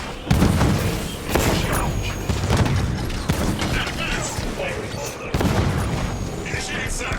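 Turret gunfire in the video game Halo 5: Guardians, with dense rapid shots and heavy booms layered into a constant loud barrage, surging in several strong waves.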